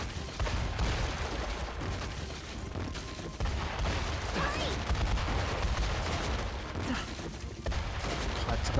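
Continuous dense blasts and crackling bursts in the Metaphor: ReFantazio video game, loud and sustained throughout with rumbling low booms and scattered sharp pops layered over a busy game soundscape.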